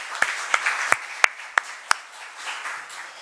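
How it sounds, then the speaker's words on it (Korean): Committee members at a regional council administrative affairs committee session clap together, with about six distinct, sharp claps standing out over a soft bed of scattered applause, fairly close and fading after a few seconds. "박수 한번 부탁드리겠습니다."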